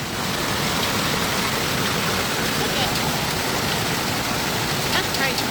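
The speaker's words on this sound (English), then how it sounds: "Listen to this hailstorm." Hail hammers down on rooftops, vehicles and streets in Denver, some stones near golf-ball size, making a dense, steady roar of countless impacts that stays loud and continuous throughout with no voices.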